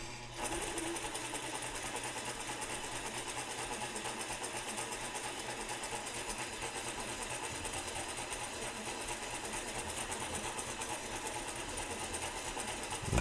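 A sewing machine runs continuously while stitching a straight hem line, a steady fast mechanical whir and rattle at close range that lasts throughout without pauses, with no voices.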